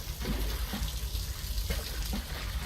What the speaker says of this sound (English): It's water.